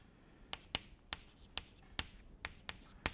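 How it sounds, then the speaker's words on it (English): Chalk or marker strokes on a board during a mathematics lecture: about ten sharp, distinct taps and scratches in an irregular rhythm, close and fairly quiet against a hushed room. "so let me write that here"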